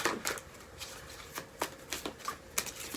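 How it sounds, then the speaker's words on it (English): Tarot cards shuffled by hand in a quiet ASMR setting, giving a run of crisp riffling and slapping bursts at an irregular rhythm, close and clear with no talking. "Get used to shuffling these cards."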